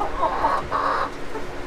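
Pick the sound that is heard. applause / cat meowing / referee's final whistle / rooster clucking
rooster clucking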